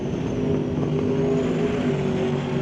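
Drag race cars with turbocharged big block Chevy power launch off the line at an ET bracket race, a dense continuous roar of engines heard from a distance, steady and unbroken for a few seconds.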